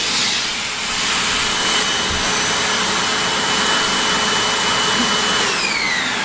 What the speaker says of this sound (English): You're vacuuming Mom!